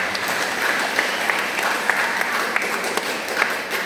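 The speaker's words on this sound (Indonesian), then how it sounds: "Tepuk tangan untuk mereka dulu." Steady, dense applause from a congregation at a Catholic thanksgiving Mass for a nun's perpetual vows, with a few sharper claps standing out. It fills the whole moment without pause, and no voices are heard over it.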